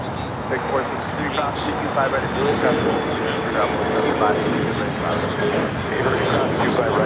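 A CRJ regional jet at Los Angeles International Airport gives a steady, broad engine roar with a faint high whine, holding for several seconds while voices murmur in the background.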